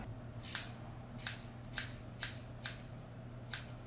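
Scissors point-cut short pixie hair, six crisp, quiet snips spaced roughly half a second apart over a low steady room hum.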